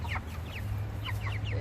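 Chickens out on grass, foraging and eating, cluck softly in short scattered calls over a steady low background hum, with no talk.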